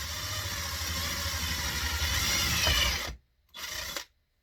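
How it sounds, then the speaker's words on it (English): An impact driver runs a drill bit through sheet metal, giving a loud, continuous grinding whir for about three seconds, a short pause, then a second brief burst. "I need to drill a little hole, so I'm going to use my impact."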